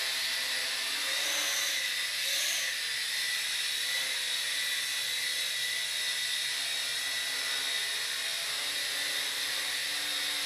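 Revell Ominus Dromida quadcopter in flight, a steady high-pitched buzzing whine of small propellers and motors that holds a constant, fairly loud drone throughout with slight pitch swells early on.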